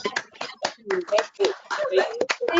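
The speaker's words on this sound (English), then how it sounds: "how about we clap for Wanda?" Scattered hands clap over a virtual meeting connection at an awards night, uneven and mixed with overlapping voices and cheerful chatter.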